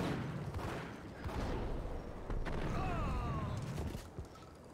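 Gunfire erupts in the video game Max Payne, in a pawn-shop area: bursts of shots and impacts rise over steady game noise, loud and close, with a few sharper cracks spaced across the stretch.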